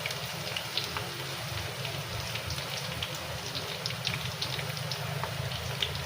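Crushed garlic cloves and curry leaves sizzle steadily in hot oil with mustard seeds, a dense continuous crackle with scattered sharp pops throughout, close and moderately loud with no talking.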